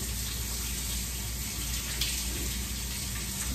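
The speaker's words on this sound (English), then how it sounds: "let me rinse my hands off" A kitchen tap runs while hands are rinsed after shaping crab cakes, a steady close rush of water with slight splashing and no talking.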